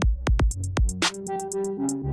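Realistic drum loop in Bitwig Studio with velocity and panning edits, punchy kicks and snare hits with crisp hi-hats in a steady pattern, close and dry, with bass notes entering underneath.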